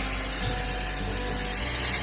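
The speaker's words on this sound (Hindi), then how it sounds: "अभी मैं इसमें पानी ऐड कर दूँगी" A continuous rush of water pouring into a pot of chicken yakhni pulao, steady and close, with a slight hollow gurgle and no talking.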